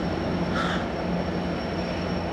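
F59PHR locomotive number 856 shoving a passenger train toward Union Station, a steady low rumble and rolling drone of rail cars passing close with a thin high whine running throughout.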